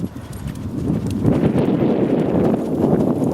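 Horse hooves clopping on an arena surface during rollback riding training, a dense, fairly loud run of thuds that builds over the first second and then holds steady, with no talking.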